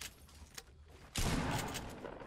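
A sudden burst of rapid gunfire in the video game Fortnite erupts loud and close, a dense fusillade of shots following a few quieter pops.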